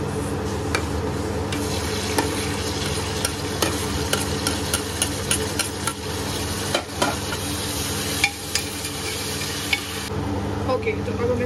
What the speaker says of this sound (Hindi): ओके, तो अब हम डालेंगे इसमें ये टोमेटो और ग्रीन चिली।